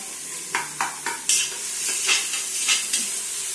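Ingredients for chicken biryani sauté in a pan, a soft steady sizzle broken by several sharp spoon-on-pan scrapes and knocks at a regular pace, close and without talk.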